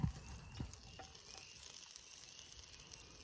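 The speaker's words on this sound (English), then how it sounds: "You can hear it sizzle, sizzle." Faint, steady sizzling hiss of pork and chicken cooking over a fire in the woods, with a couple of soft knocks near the start.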